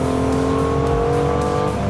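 A BMW M2 held in a sustained drift, its engine revving hard and steadily while the tires squeal loudly and continuously, close and dominant throughout.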